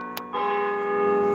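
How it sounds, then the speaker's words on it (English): A church bell rings from a bell tower in Solvang, California, around eight o'clock, a sustained, resonant tone that swells in after a short, quiet start and holds steady at moderate loudness. "Where's this bell coming from?"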